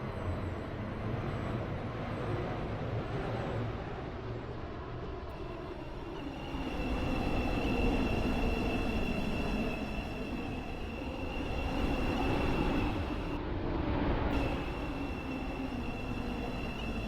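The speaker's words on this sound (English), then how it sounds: "This train is formed of 5 coaches." Train in the Stepford City video game, formed of five coaches, rolls along with a steady rumble and rail noise that swells midway, accompanied by a sustained high tonal whine, with no voices.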